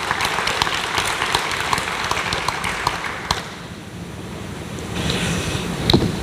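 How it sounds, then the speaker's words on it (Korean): An audience claps loudly to welcome a pastor to the podium at a Korean church lecture. Steady broad applause runs for about three seconds, then fades into room noise with a brief swell near the end. "크게 박수로 한번 맞이하시겠습니다."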